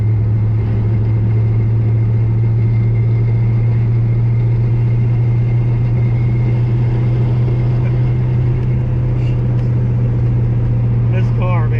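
A 1000 rwhp drag car's engine idles close by with a loud, steady low rumble and a deep droning hum, and voices are briefly heard over it near the end.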